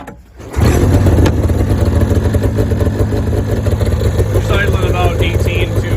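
The small engine of an Arctic Cat Z440 snowmobile, revived after over 20 years of sitting, sputters and catches after a brief pull indoors, then settles into a loud, steady, rattling run close by.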